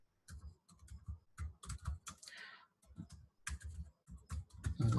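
Command typed on a computer keyboard: quick bursts of close, crisp key clicks in uneven runs with short pauses, alone and fairly quiet.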